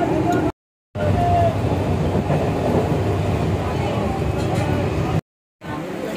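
Inside a train carriage a steady loud rumble of rolling wheels fills the space, cut by two short dropouts, with faint voices underneath.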